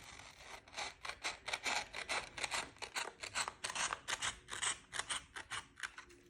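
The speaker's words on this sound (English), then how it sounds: "we want to cut a teeny tiny sliver from the long edge of our rectangle" Scissors cut a thin sliver of paper in a rapid series of close, crisp snips repeating steadily for several seconds with no talking.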